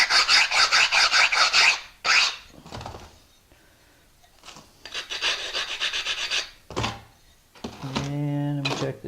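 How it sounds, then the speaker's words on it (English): A ceramic tile edge is smoothed with a hand file during shower wall tiling, heard as quick rhythmic rasping strokes in several bursts separated by pauses, close and fairly loud, ending with a brief tonal sound. "filing those makes a big difference when it comes to how smooth the edge is"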